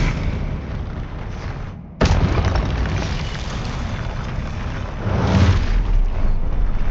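A booming spell blast in the video game Hogwarts Legacy, a loud sudden burst over a continuous dense rumble of battle effects, with a further swell of noise near the end.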